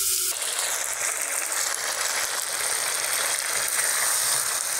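Chicken sautéing with onion and spices in a pan, a steady, close sizzle and crackle of frying that runs unbroken throughout, with no talk over it.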